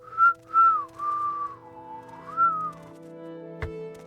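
A character in the video game Morrowind whistles a short, wavering tune of several close, clear notes that rise and fall, followed by a brief sharp click near the end, with no talking.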